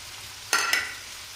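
Chicken with pulao masala stirred in a hot pan, giving two short, close bursts of sizzling and scraping over an otherwise quiet background.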